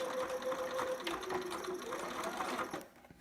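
A sewing machine runs a steady, close whirring zigzag stitch while back stitching, loud and continuous for nearly three seconds before stopping abruptly.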